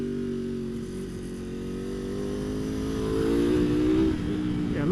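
A Ducati Panigale V4 SP2 sportbike engine drones steadily and close under load, its pitch climbing gradually before quick auto-blipper revs punctuate the end.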